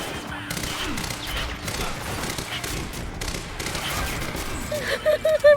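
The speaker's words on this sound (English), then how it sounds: "Everything's exploding!" Rapid gunfire and explosions rattle through a Quantum Break gameplay session, dense bursts of shots and thuds layered over one another, with a person talking over the din and a few electronic game tones near the end.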